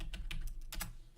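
Several quick keystrokes clatter on a computer keyboard, a short close burst of clicks with no talking.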